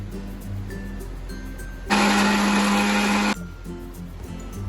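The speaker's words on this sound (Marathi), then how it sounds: "आलं लसूण मिरची आणि कोथिंबीरसुद्धा ॲड करून मिक्सरमध्ये बारीक करून घेते" A kitchen mixer grinding ginger, garlic, chilli and coriander whirs loudly for about a second and a half, a steady high grinding drone, then cuts off abruptly into quiet room noise.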